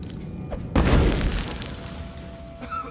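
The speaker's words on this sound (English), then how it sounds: "Let's try choke dust grenade." A choke dust grenade bursts in Dishonored with a sudden loud thump, then a broad hiss that lingers and slowly fades over the next two seconds, a faint chime ringing underneath.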